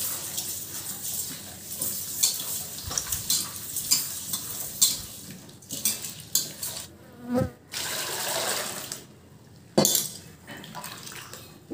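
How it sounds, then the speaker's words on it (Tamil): Cleaned squid being rubbed and washed with salt and water by hand, giving wet squishing and sloshing bursts with sharp splashes, close and fairly loud, with no talk. "உப்பு சேர்த்து நல்லா வந்து இதை கழுவிக்கலாம்."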